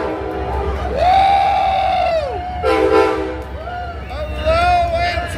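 Amtrak diesel passenger train passing with loud horn blasts rising and falling over a low engine rumble, a voice cheering excitedly alongside.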